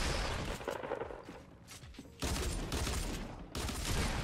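Gunfire erupts from behind the player in a battle-royale video game, dense rapid bursts of loud shots cutting in and out in heavy volleys with brief gaps between them.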